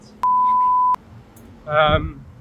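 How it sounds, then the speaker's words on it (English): An electronic alarm goes off in Kuala Lumpur: one loud, steady, close beep lasting under a second, then a short burst of a voice speaking. "I've just got an alarm going off."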